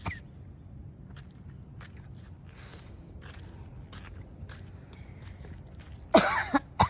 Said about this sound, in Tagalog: May ubo yata ako.